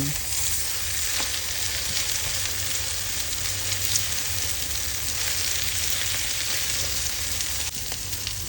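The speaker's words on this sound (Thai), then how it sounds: "จากนั้นก็ราดไข่ลงไปเลยค่ะ ด้านล่างเริ่มสุกแล้วนะคะ กลับด้านได้เลย" Egg batter for a flour-free fried oyster omelette sizzles steadily and loudly in a hot pan, a continuous close frying hiss with no talking.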